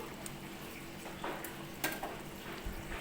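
Potato and bitter gourd curry simmering in a pan, a faint low bubbling and sizzle with a couple of soft stirring clinks.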